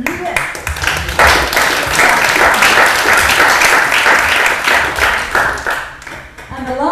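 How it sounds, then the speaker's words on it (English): Audience applause at a design award pitching session, sustained clapping from a crowd for several seconds, fairly loud, with some voices over it near the start and end. "And applause for the Europe."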